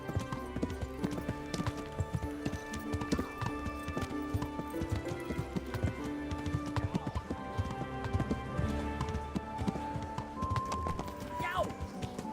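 Horse hooves clip-clopping at a steady gallop in the medieval video game Kingdom Come Deliverance, a continuous rhythmic pounding under game music and voices talking, with a brief whinny.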